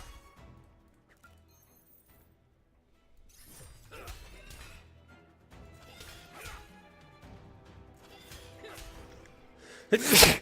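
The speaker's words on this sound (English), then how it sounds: "Big ol' sneeze." A loud, sudden sneeze bursts out at the very end, following a stretch of quiet and some low rustling and handling noises.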